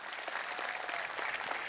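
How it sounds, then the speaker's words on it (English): Applause from the audience at a university graduation ceremony, a steady dense wash of many hands clapping that holds evenly throughout, with no voices over it. "So let's give a round of applause again."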